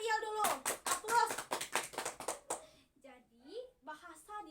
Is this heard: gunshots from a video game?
no